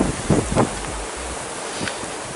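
Wind buffets the microphone in low rumbling gusts at an old lakeside, strongest at the start and then settling into a steady rushing noise.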